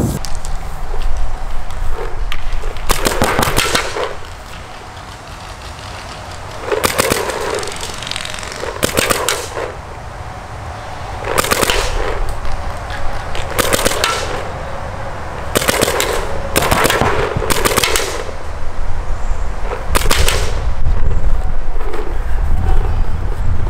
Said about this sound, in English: So that was roughly 10 shots, shooting about 3 balls each time